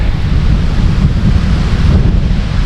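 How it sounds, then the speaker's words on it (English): Strong wind at a late-November campsite in Dolliver State Park, Iowa, a loud continuous rumbling roar buffeting the microphone throughout. "That wind is picking up."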